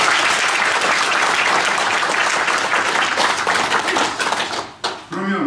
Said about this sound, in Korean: 이의가 없으시면 박수로 승인해 주시기 바랍니다.